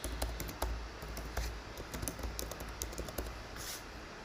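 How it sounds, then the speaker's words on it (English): Fingers typing a search query on a computer keyboard, a quick run of crisp, close key clicks in an irregular rhythm over a low steady background hum. "now we're going to type in infectious disease,"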